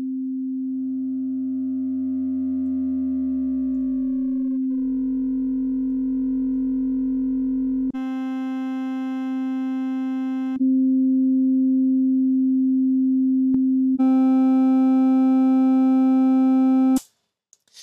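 A steady electronic oscillator tone with a pitch glide, then turning harsh and buzzy as distortion adds bright harmonics in stepped bursts before cutting off abruptly.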